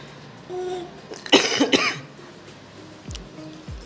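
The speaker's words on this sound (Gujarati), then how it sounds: "ઉધરસ થઈ ગઈ બધાને." A single person gives a short burst of harsh coughs at close range, two or three rapid hacking bursts in a quiet room with faint background noise, no speech.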